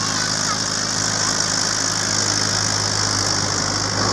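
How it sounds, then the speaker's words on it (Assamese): A tractor ploughing a field chugs loudly and steadily nearby, a constant low mechanical drone with no talking over it. "ট্ৰেক্টৰৰ চাউণ্ডটো বেছি কাৰণে চাগে মোৰ মাতটো শুনা নাই"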